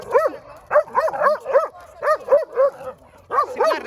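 Dog barking in a rescue and rehabilitation setting, a loud, close series of repeated yelping barks in quick bursts with brief pauses, some sounding whiny.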